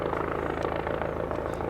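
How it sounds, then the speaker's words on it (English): A helicopter flies overhead outdoors, its loud, steady rotor chop and engine drone filling the whole moment as a dense, continuous roar with no pauses. "There's a helicopter flying overhead right now"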